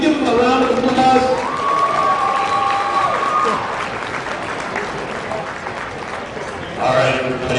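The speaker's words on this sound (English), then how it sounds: "So can we give them a round of applause?" Crowd applause at a basketball game between the Jamestown Jackals and Ohio Bootleggers, a sustained wash of clapping and some cheering in an arena, with an announcer's amplified voice over it.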